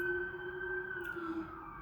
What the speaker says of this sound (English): Just waiting for the sirens to pass.